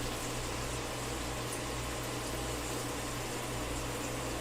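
Butter browns in a pan for pecans, giving a steady, even sizzle with low hum beneath and no pauses.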